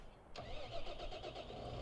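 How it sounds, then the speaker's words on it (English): In the Farming Simulator 2015 video game, a modded tractor's engine cranks and catches after a short quiet moment, then settles into a steady mid-pitched rumble with a faint pulsing rhythm. "So this is a modded tractor"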